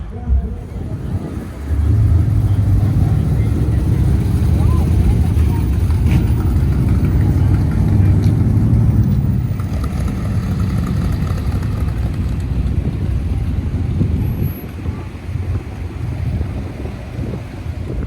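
A yellow 1971 Chevrolet Chevelle parked on grass at a Gulfport, Mississippi car cruise, its engine giving a steady low rumble that swells for several seconds, then eases under outdoor wind noise.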